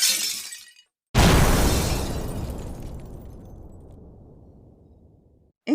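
A Star Wars seismic charge detonates with a loud shattering burst after a moment of silence, its glassy crackling roar decaying slowly over several seconds, preceded by a brief sweeping tone.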